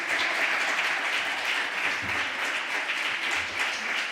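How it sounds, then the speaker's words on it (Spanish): A crowd at a library talk applauding strongly, dense continuous clapping from many people filling the room at an even, sustained level throughout. "Un aplauso fuerte, fuerte."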